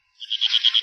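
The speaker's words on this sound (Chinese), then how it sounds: "我只对角落那蝈蝈的叫声充满好奇" A katydid chirps from a corner of the Forbidden City palace hall during an imperial coronation: one short burst of about five rapid, evenly spaced, buzzy pulses, fairly close and alone, with no voices.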